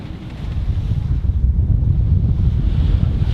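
Open sea under about 12 knots of wind while motor sailing close-hauled: a loud, continuous low rush of wind buffeting the microphone over the wash of waves against the hull.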